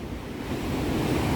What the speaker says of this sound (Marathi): मोठमोठ्या लांबलचक लाटा येत आहेत आणि पूर्ण हे दगड ओले चिंब होत आहेत